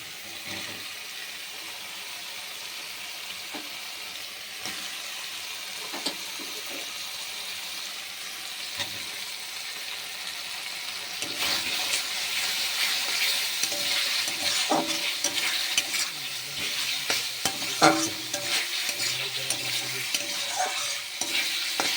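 Potatoes go into oil already cooked with spices and are stirred as they fry: a softer sizzle at first, then louder crackling and frequent scraping stirs up close, with no talking.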